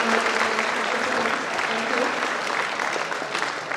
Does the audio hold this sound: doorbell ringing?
no